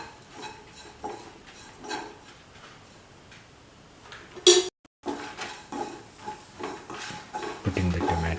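A utensil stirs tofu masala with salt in a pan, making irregular metallic clicks and scrapes against the cookware that are close and fairly quiet, with a brief silent gap midway and no talking.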